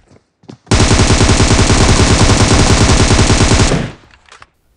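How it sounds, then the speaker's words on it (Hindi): Gunfire in PUBG Mobile comes as one loud, close burst of rapid automatic fire lasting about three seconds, with a few faint shots just before it and a brief fading tail after. "अभी सामने से गन शॉट आ रहे थे, शायद दो टीम फाइट कर रही थी"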